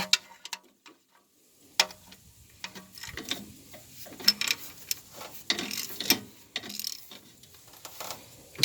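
A ratchet tightens the transmission pan bolts on a 1995 Dodge Dakota Sport. Close, crisp bursts of rapid clicking come in uneven spurts, with short pauses between strokes.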